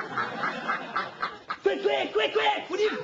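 A duck quacking in short repeated calls, close and loud, mixed with a person talking over it.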